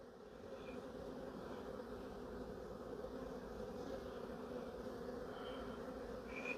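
Honeybees buzz steadily around an open hive at a quarantine apiary, a dense, even drone of many insects close by that continues unbroken without any voices.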